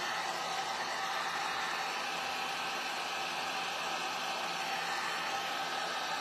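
A heat gun blows hot air onto a painted wooden picket fence plank, a steady close whooshing roar with a constant level and no breaks or talk.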